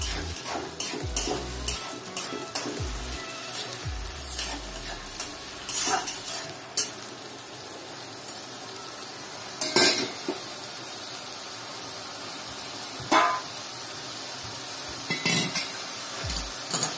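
Barnyard millet upma being stirred and sautéed in a pan, with a steady soft sizzle under repeated scraping and clinks of a spoon against the metal, close up with no talking.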